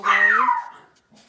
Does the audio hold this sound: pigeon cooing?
no